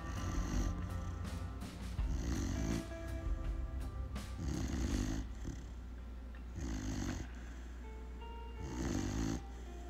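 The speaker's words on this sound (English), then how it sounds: "that's my dog snoring in the background too" A dog snores steadily in a quiet room, the deep, raspy breaths repeating in a slow, even rhythm of about four snores, close and clear with no talking.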